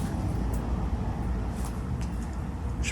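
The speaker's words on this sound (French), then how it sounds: "vous voyez qu'il y a des voitures qui passent" Cars pass on a nearby road outside an abandoned manor, heard as a continuous low, muffled traffic rumble with faint higher swishes, at a moderate distance and without speech.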